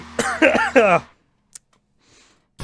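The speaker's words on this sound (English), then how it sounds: "I don't know where this cough is coming from." Three quick, hoarse coughs in a row, close up, followed by near silence and a faint click.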